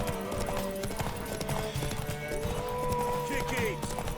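Horse hooves clip-clopping in a race in The Witcher 3 video game, a quick, steady rhythm of hoofbeats under voices talking, with a brief whinny-like call near the end.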